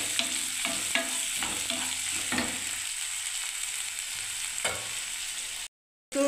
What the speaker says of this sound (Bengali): এবার আমি নাড়তে থাকবো বন্ধুরা।